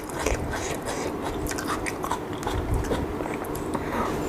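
Close, wet crunching and chewing of spicy Thai som tam papaya salad with khanom jin rice noodles, steady bites and mastication running throughout with no talk.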